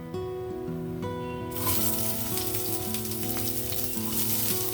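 Onion frying in hot spiced oil for a vegetable biryani, a loud steady sizzle that bursts in partway through over a faint musical background, with no voices.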